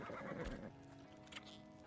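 A horse in the video game Ark Survival Ascended gives a clear neigh followed by clip-clopping hooves, fairly quiet and close, with no talking.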